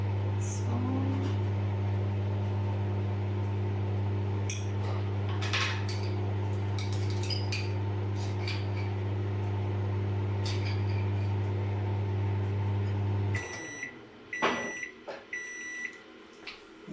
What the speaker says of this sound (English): Therapeutically listening to the microwave, swooshing round and round.